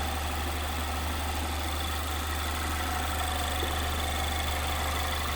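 A 2019 Mazda MX-5 Miata Club Convertible with a 2-liter inline-four Skyactiv engine idles steadily, a constant low hum with faint mechanical whir, heard close with no voices.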